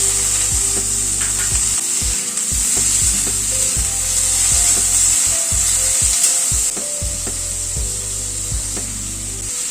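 Tomato pieces and lightly fried grated coconut sizzle in a pan while a utensil repeatedly scrapes and stirs, giving steady close frying hiss with regular knocking strokes, no voices.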